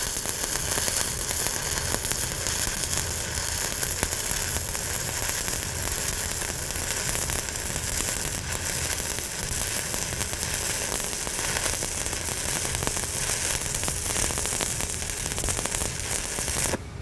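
A stick welding arc burns on steel plate with a steady, dense crackling hiss that runs unbroken throughout and drowns out any other sound.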